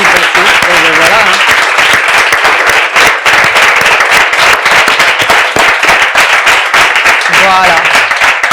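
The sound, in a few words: audience applauding loudly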